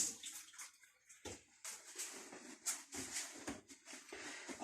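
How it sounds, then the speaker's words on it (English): Running tap water splashes unevenly over hands being washed in a kitchen, with faint rubbing and dripping between the gushes. "I'm going to wash my hands."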